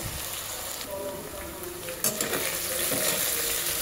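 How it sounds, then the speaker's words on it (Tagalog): Potatoes sautéed in a pan at home, giving a steady close sizzle with occasional stirring scrapes; the frying grows slightly louder midway and continues without pause and without talk. "Gisa lang natin ng konti bago tayo maglagay ng asin."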